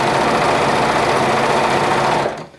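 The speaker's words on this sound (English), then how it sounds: "you can top stitch with your sewing machine" Sewing machine top stitching a garment seam, running in one steady, fast, close whir for a couple of seconds before stopping abruptly.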